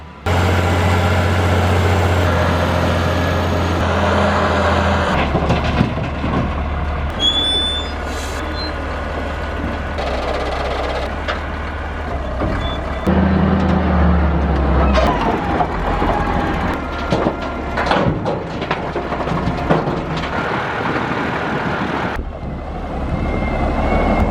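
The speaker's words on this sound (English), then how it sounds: "He's going to use the loader, which is what he brought up here." Wheel loader scooping dug material into a dump truck at an outback Oregon sunstone mine, heavy diesel engine drone throughout with clanks, an air-brake hiss and reversing beeps, loud and continuous with no talk.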